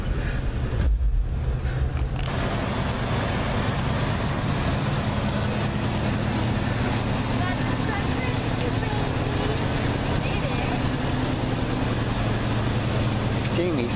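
A 1959 GMC truck rumbles along in a continuous low, steady engine drone lasting well over ten seconds, with a short muffled dip near the start, heard nearby with no talk over it.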